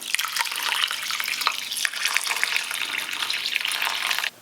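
Cold filtered water pouring over rice in a bowl to soak, a steady splashing, bubbling stream heard up close and alone, stopping abruptly at the end.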